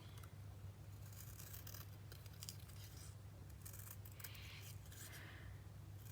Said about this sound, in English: I'm just going to bring in my scissors. And these pieces will get trimmed out like so.